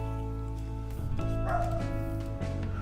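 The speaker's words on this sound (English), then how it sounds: "what is she barking at?" A dog barks and yips in short repeated bursts, fairly close, with a whiny tone over a low steady hum.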